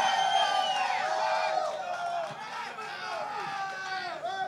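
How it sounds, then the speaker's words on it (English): Hockey fans at a live New York Rangers playoff alumni event make loud, sustained crowd noise with cheering and whoops, steady throughout with voices shouting over it. "We got a great crowd here, don't we, guys?"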